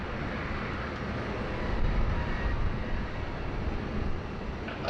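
Qantas airliner on runway 07 at Sydney Airport gives a steady, distant broadband rumble of jet engines that swells slightly midway and stays even, without voices.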